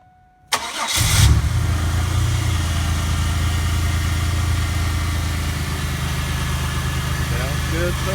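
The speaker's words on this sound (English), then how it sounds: "Okay, we're about to start the car." A 1998 Pontiac Grand Prix with the 3800 V6 and a mass air flow sensor fault cranks briefly, catches and settles into a steady, close idle that drones on to the end.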